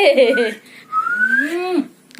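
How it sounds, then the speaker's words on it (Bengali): A person whistles with the mouth at a home anniversary celebration, a few sliding tones close by, preceded by a brief voice. "একটু সিটি বাজা"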